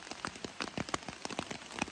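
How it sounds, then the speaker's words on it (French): Heavy rain patters on a tarp shelter in a forest at night, close irregular drops tapping the fabric in quick bursts over a faint background hiss. "Avec la pluie qui tombe sur le tarp."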